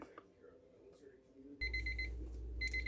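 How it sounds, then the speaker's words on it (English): A kitchen timer alarm goes off after pressure canning ground deer meat, beeping in steady bright pulses that start suddenly partway through and continue over a low hum, with a brief faint voice just before. "our 10-minute timer has just gone off"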